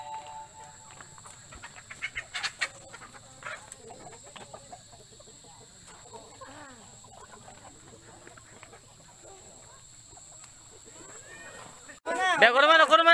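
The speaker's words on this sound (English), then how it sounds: "Chicken inside." Chickens inside a poultry farm cluck and squawk in a busy scattered chorus at moderate distance, with people talking over them and a louder burst of clucking near the end.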